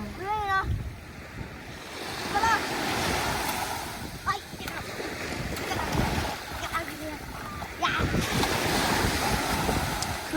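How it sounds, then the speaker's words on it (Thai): Strong ocean waves at Mission Bay beach on a warm day, a steady close roar of surf with heavy wind buffeting the microphone, while someone talks over it. "บรรยากาศที่หาดในวันนี้นะคะ คลื่นค่อนข้างดีคลื่นค่อนข้างแรง"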